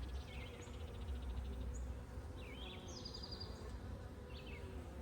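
Honeybees hum softly at an open backyard hive whose queen appears to have died and where new queen cells are being raised; a low, steady drone persists throughout, with a few bright bird chirps scattered above it.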